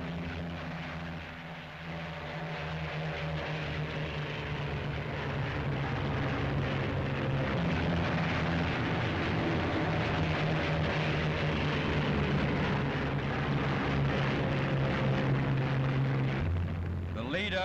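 World War II P-47 Thunderbolt and P-38 Lightning fighter planes take off in pairs, with the loud propeller-engine roar swelling and holding steady, then dropping near the end, as a narrator speaks over it.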